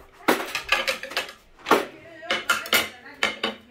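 Toy plates and dishes clatter in a series of bright, rapid knocks and clinks at a kids' café play kitchen, close and fairly loud, with brief pauses between bursts.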